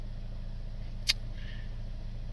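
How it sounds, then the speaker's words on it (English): A small Fiat 500 car engine idles steadily with a low, even rumble, a single brief click partway through, and no one speaking. "So the car is running."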